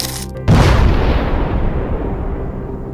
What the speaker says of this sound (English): In the vacuum of space, the crew heard a loud bang.